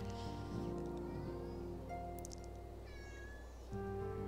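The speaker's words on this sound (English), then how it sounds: "And my kitty is meowing in the background" A pet cat meows a few times in the background, faint and short, under steady fantasy video game music from Final Fantasy XIV.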